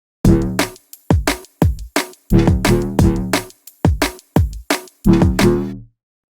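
A driving drum and bass synth bass line from a Yamaha DX7 synthesizer plays in quick rhythmic bursts alongside sharp drum hits, loud and upfront, ending abruptly.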